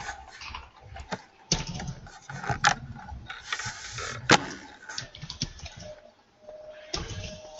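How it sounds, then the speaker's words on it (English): Steady, uneven clatter of computer keys being typed on, close to the microphone, with bursts of quick keystrokes and a few louder clacks, picked up during an online training call. "there is a lot of typing noise which comes in"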